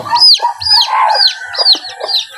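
Hens and small chicks close by, a run of short rising-falling peeps and soft clucks repeating in quick succession, loud and alone with no talking.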